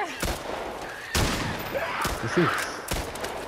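Shots from the player's gun in The Last of Us Part 1, four sharp blasts spaced about a second apart, close and punchy, with a brief spoken phrase between them.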